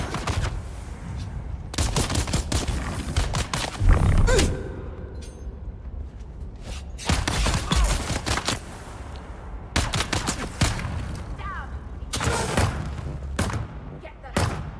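An automated turret in the sci-fi survival game Dune: Awakening fires repeated bursts of loud rapid gunfire with heavy thuds, separated by short quiet gaps, while a player talks between volleys.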